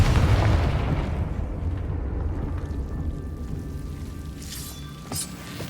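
A Confringo spell explosion in the video game Hogwarts Legacy: one deep, rumbling blast that opens loud and slowly fades into a low, lingering roar.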